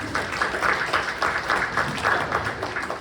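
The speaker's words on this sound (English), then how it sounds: "Give them a round of applause" Applause from a high school audience at a hypnosis show for cheerleaders, with dense, even clapping from a crowd that holds steady for the whole stretch.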